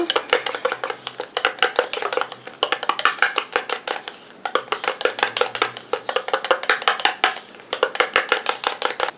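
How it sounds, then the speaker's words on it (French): A utensil stirs soothing aftershave cream in a bowl, making rapid, steady clinking and scraping strokes up close that pause briefly midway, with no talking. "Je mélange"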